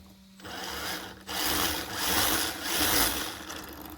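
Small electric motor of a 2WD Slash RC car spinning its tires after a 48 to 32 pitch gear upgrade, a close, buzzing whir that swells and eases in several surges.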